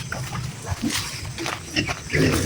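A pig is bathed outdoors with rainwater, grunting and squealing in short, loud bursts close by, with splashing and handling noises in between.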